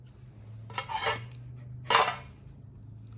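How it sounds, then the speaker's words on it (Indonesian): Umbilical cord scissors cut the cord during the third stage of labour, giving two close metallic snipping clinks separated by about a second in a quiet room. "selanjutnya saya akan menggunting tali pusat menggunakan gunting tali pusat"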